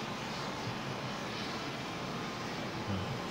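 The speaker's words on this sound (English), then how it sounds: "So engine number 4 also starting" A C-17 Globemaster jet engine winds up in Flight Simulator 2020, a steady broad roar holding at constant loudness.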